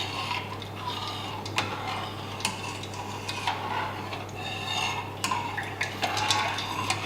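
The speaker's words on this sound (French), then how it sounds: "Et nous remuons jusqu'à ébullition" A utensil scrapes and clinks gently against a pot of consommé in an irregular stirring rhythm, with a low steady hum underneath.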